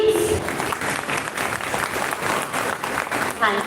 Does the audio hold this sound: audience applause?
yes